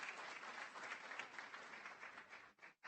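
An audience at a commencement ceremony for liberal arts, applied sciences and health sciences applauds the staff: a dense, steady wash of clapping from a crowd that thins and cuts off briefly near the end.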